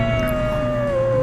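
Wolves howl in the video game Red Dead Redemption 2, a long, clear, slightly falling howl rising over a low ambient rumble, with a faint yip near the start.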